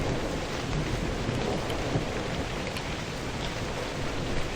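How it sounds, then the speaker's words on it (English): A thunderstorm with rain in the video game Novus Inceptio: dense, steady rain hiss and a low rumble of thunder, loud and continuous with no talk. "Thunderstorm."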